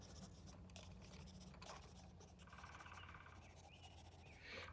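Graphite pencil scratching and shading across paper during outdoor plein air sketching of foliage, a steady soft scraping texture of close, continuous strokes with no talk.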